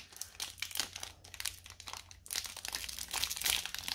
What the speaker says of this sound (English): Okay, so back with the scissors. These are pretty hard to open still, I would imagine.